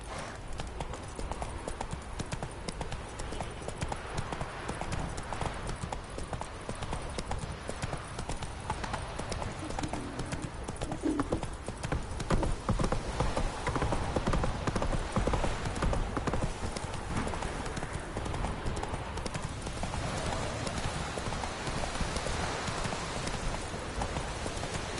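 Roach, a horse in the video game The Witcher 3, gallops with a rapid, unbroken drum of hooves, close and even in loudness from start to finish.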